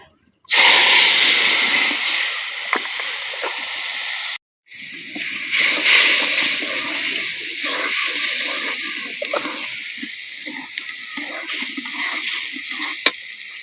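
Mixed masala paste dropped into hot oil left from frying fish, bursting into a loud sudden hiss that settles into a long sputtering sizzle, cut by a brief pause, with possible voice in the background.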